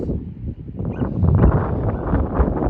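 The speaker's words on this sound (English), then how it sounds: "it's starting to get really windy" Steady wind gusting and buffeting a microphone outdoors on a farm, a loud broadband rush that swells and dips without pause, with no voices.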